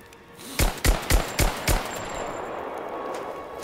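Five sharp gunshots crack in quick, slightly uneven succession in Rise of the Tomb Raider, each burst loud and punchy, followed by a quieter tail of ambient game noise.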